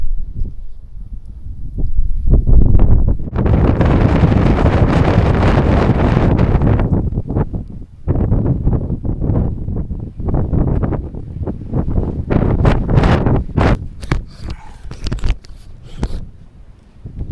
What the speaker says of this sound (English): it's super windy. It was pretty much windy all night long. You can hear it hit the walls.